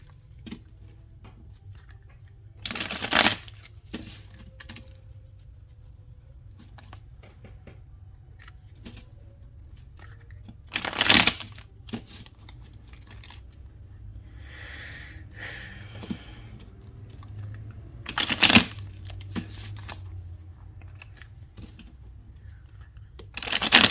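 Deck of cards being shuffled by hand in three short, crisp riffling bursts spaced several seconds apart, quiet and close, with near silence between them.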